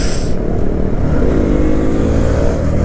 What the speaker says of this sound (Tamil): வண்டி இப்படி பறந்துட்டு போகுது.